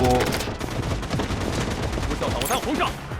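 Main gun firing in the shooter game Blood Strike, a loud close-up rapid burst of automatic gunfire running continuously for several seconds, with a brief electronic effect near the end.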